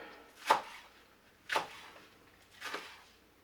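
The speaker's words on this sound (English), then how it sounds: "Just going to cut these on a diagonal so they look pretty" A knife slices green onions on a diagonal against a cutting board, three distinct crisp chops about a second apart, close and fairly quiet with no other sound.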